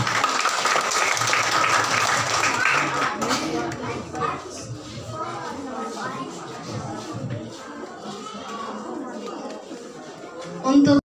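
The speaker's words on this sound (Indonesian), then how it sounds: "Tepuk tangan." Applause at a primary school graduation ceremony rises from a crowd for a few seconds, then fades under a speaker addressing the gathering.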